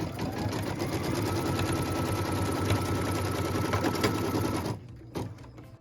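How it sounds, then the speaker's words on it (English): A sewing machine runs steadily for several seconds, stitching a tack-down line on a Wild Goose Chase quilt piece, its rapid needle chatter close and loud before it stops abruptly, followed by a brief fainter burst. "What we're stitching now is the tack down line for piece number 11."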